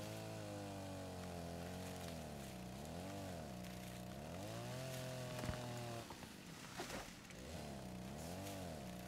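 A chainsaw in the video game Rust drones loudly with a buzzing engine tone. The revs swell and dip for about six seconds, then the sound breaks into rougher, choppier revving. Nobody speaks.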